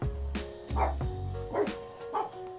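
A dog barks four times at an uneven pace, close and fairly loud, with nothing else in the background.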